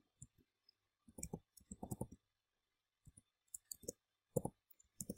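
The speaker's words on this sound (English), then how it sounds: "I'm just typing this using the keys on my keyboard" Keys clack on a computer keyboard as someone types a short entry, quiet irregular bursts of clicks separated by brief pauses, close and alone with no talk.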